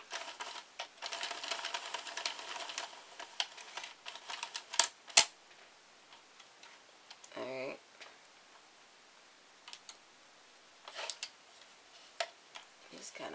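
Quick ticking clicks from a Sentro knitting machine being cranked, close and fairly quiet, in bursts with short gaps, and a louder rattling sweep partway through.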